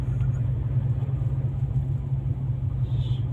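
Car driving, a steady low engine rumble and road noise heard from inside, continuous and even throughout with no clear speech.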